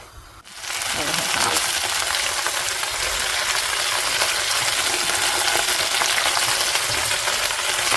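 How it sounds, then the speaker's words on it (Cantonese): Garlic hits a hot pan and bursts into a loud, steady sizzle of frying that carries on evenly, close and bright. "我落啲蒜咧，爆香少少啊，等啲蒜味咧濃郁少少"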